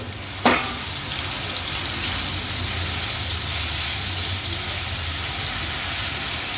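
Ginger, garlic, green chili and coriander sauté in hot oil for dhaba-style paneer palak, opening with a sharp crackle as they hit the pan, then settling into a loud, steady sizzle with no talking.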